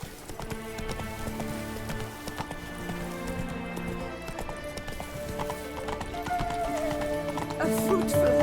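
Hoofbeats of Roach, the horse in The Witcher 3: Wild Hunt (Blood and Wine), clopping steadily over a dense bed of game music, with a brief neigh and some speech mixed in.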